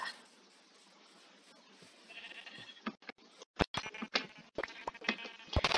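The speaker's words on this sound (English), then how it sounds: "Aha, more sheep." Blocky Minecraft sheep bleat in short bursts over a faint background hum, the calls growing louder and more frequent toward the end.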